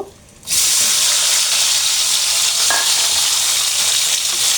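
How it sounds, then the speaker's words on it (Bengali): Eggplant halves dropped into hot oil left over from frying small puti fish, bursting into a loud, steady sizzle after a brief quiet start, with a faint clink partway through and no talking. "মাছ ভেজে নেওয়া তেলের মধ্যে আমি এখন বেগুনগুলো দিয়ে দেব"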